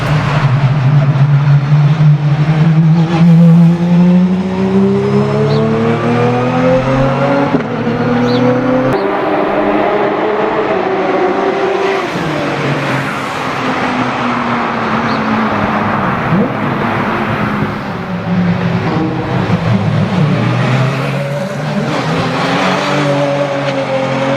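A Porsche GT3 Cup R race car engine in Need for Speed Shift 2 Unleashed revs and climbs through gears, its loud, continuous drone rising and falling in pitch as the car accelerates and shifts.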